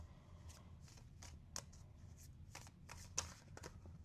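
Tarot cards shuffled during a reading, giving a run of soft papery riffles and flicks with a few sharper snaps, close and quiet over a low background hum, with no voice.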